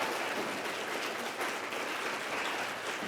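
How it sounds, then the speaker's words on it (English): An audience at a campus life awards ceremony applauds an award recipient, a continuous, even wash of many hands clapping, somewhat distant and steady for the whole stretch. "Please give a round of applause for Kara."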